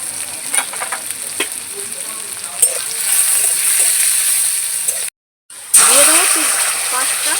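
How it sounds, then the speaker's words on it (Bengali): Chopped garlic, ginger and green chili frying in a little white oil in a wok, a loud, close, continuous sizzle with spatula scrapes, briefly cut off before resuming. "কড়াইতে আমি তেল দিয়ে দেবো অল্প সাদা তেল রসুন কুচি আদা কুচি"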